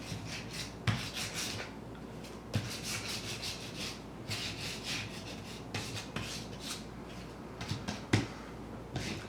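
Painted lamp edges lightly distressed by hand, giving repeated short rasping rubs in an uneven rhythm, close and fairly quiet.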